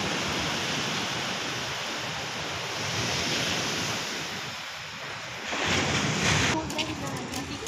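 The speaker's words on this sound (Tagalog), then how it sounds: "Laki ng alon, no?" Large ocean waves break and rush on the shore at a beach resort in Bauang, La Union, a steady loud wash of surf with wind buffeting the microphone and a heavier surge near the end.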